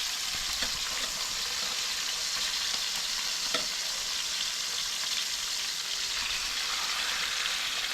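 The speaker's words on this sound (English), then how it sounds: "So that's also being fried up in fish sauce." Fish, likely a bony pond-caught fish, frying in fish sauce in a pan, giving a steady, fairly loud sizzle and crackle that runs unbroken throughout, with a faint clink or two of a utensil partway through.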